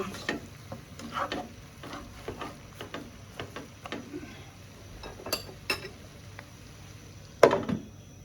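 Pork with leafy greens being stirred in a pan, a spoon scraping and tapping the metal in irregular light strokes over a soft sizzle, with one sharper clatter near the end and no talking.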